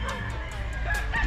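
Fighting gamecock roosters crow loudly amid a steady din of other fowl, with a couple of crows rising over continuous clucking and farm bird noise.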